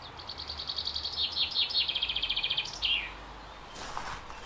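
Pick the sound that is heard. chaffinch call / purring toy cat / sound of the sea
chaffinch call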